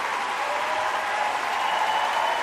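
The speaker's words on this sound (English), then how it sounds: "Have I got a round of applause anymore?" A canned round-of-applause sound effect played during a live stream, giving a steady even wash of clapping across the whole short stretch, fairly loud with no talk over it.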